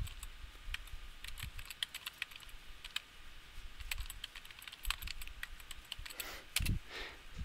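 Keys clatter on a computer keyboard in quick, irregular taps, quiet and close, with a slightly heavier thump near the end.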